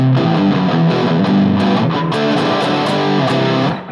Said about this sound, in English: So if it's pretty heavily palm muted, it sounds like this.